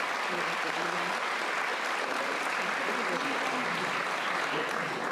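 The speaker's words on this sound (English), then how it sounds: "Let's give that a round of applause." A full room of steady applause at a Bar Association annual meeting, dense and sustained clapping from a large crowd throughout.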